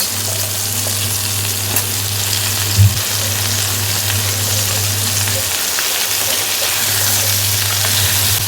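Vegetable stalks fry with ridge gourd and potatoes in a pan, giving a loud, steady sizzle over a low hum that briefly cuts out, with one sharp clink of a utensil and scattered stirring sounds.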